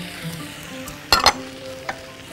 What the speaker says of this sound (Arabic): يلا هبدأ بقى أنزل الطماطم